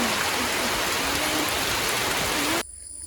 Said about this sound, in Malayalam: അത് കഴിഞ്ഞപ്പോൾ നല്ല മഴ എന്ന് പറഞ്ഞാൽ അടിപൊളി മഴ.